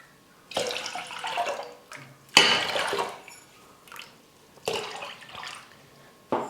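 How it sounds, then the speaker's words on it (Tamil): Water measured out and poured into a cooking pot over a tamarind solution, in short splashing bursts separated by pauses, close and moderately loud. "அதுக்கப்புறமா தண்ணி வந்து அளந்து சேர்த்துக்கோங்க"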